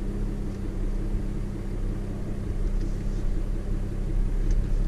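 RV backing up with a trailer, a steady low engine rumble with a constant idling drone, moderately loud and without voices.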